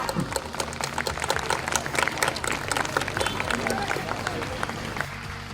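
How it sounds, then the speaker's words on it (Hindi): Audience applause at a school annual function in a hall, dense clapping with crowd murmur and some background noise under it, fairly loud and sustained for several seconds. "दो जोरदार तालियां।"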